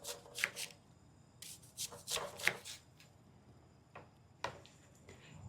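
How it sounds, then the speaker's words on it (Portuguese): A knife slices an onion into rings about half a centimetre thick, giving a series of close, crisp cutting strokes that come in short clustered bursts with quiet pauses between them. "Uma cebola nós vamos cortar em rodelas de mais ou menos meio centímetro"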